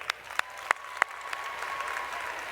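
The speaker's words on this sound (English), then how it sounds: "I'd like to give a big round of applause to those who participated and ran in the 5K today." A convention keynote audience starts with a few separate sharp claps, then builds quickly into a dense wash of crowd applause, heard from within the hall.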